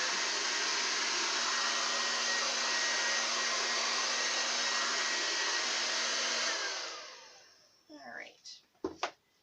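A hair dryer blows steadily and loudly for about six seconds while spreading poured paint in a Dutch pour, then winds down and switches off, followed by brief soft handling noises and a quiet voice.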